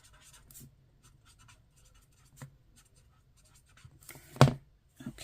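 Pen writing in a bullet journal planner, faint close scratchy strokes in short bursts with pauses, ending in a louder tap or stroke.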